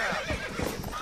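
A horse in the video game Red Dead Redemption whinnies loudly and close up, the neigh running the whole short moment with a busy game soundscape behind it.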